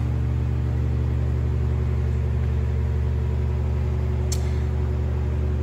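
An original 2009 Harley-Davidson Rocker motorcycle engine runs close by with an even, droning hum that holds steady throughout, with one brief high click near the end and no talking.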